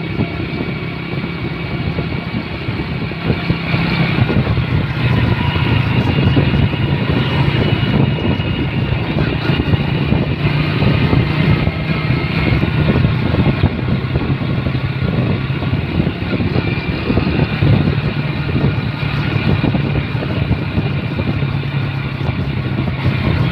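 A Supra Fit motorcycle engine hums steadily at close range while being ridden along a winding road, a continuous mid-pitched drone with wind rush and no talking.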